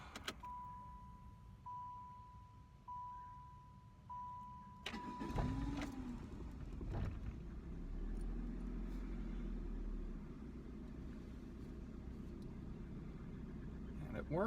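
A car engine cranks and catches, then settles into a steady low idle after a brief electronic tone beforehand; the start is abrupt and close, the running hum continuous and moderate in level.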